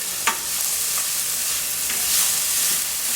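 Diced celery, red and green peppers and onion sizzling in vegetable oil in a pan, a steady bright hiss with a few small clicks of stirring.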